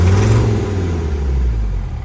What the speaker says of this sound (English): if I had to guess, it's probably like idling at like 800, maybe a little less